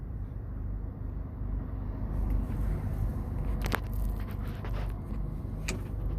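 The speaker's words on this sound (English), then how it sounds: "you get an opportunity to hear and see firsthand from the movement of the camera as well as the sound of the vehicle." Kia Optima heard from inside the cabin while driving, a steady low road and engine rumble with faint clicks and creaks, no talking.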